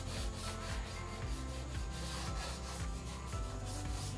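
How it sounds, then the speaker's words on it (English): Sanding block wrapped in light-grit sandpaper rubbing over a wooden furniture piece, a close, steady back-and-forth scrubbing with continuous rhythmic strokes and no talking. "I'm just going to take my sanding block with a very light grit sandpaper and just smooth out the pieces"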